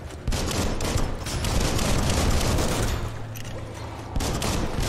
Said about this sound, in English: I'm just blasting rounds everywhere